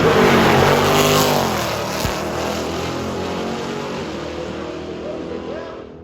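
A Ferrari 458, Lamborghini Huracan and McLaren 570S fitted with IPE exhausts at a drag race, a loud roaring engine passing close by and fading steadily over several seconds.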